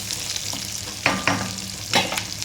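A spinach and coriander tadka frying in a pan gives a steady low sizzle, broken by three sharper scraping stir strokes near the end.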